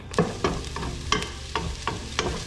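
Onion frying in butter in a pan, a soft steady sizzle broken by a rhythmic series of sharp scraping stirs, about six strokes, close and moderately quiet.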